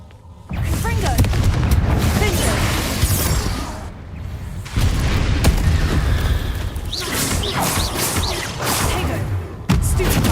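Explosive Confringo spell blasts from the Hogwarts Legacy video game, dense booms and whooshing bursts in a loud, busy battle mix with sparkling magical effects, sustained across the whole span with brief dips.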